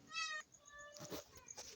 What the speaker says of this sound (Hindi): ये बिल्ली आया है खाने के लिए, बिल्ली को खुशबू लगा है मछली का।